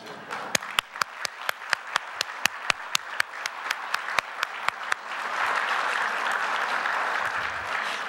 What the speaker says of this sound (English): Would you please stand and enable us to give you a big round of applause?